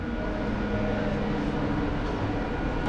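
A Katwa–Nimtita passenger train, number 53053, with ICF-type coaches, gives a steady, loud rolling rumble with constant wheel and track noise throughout.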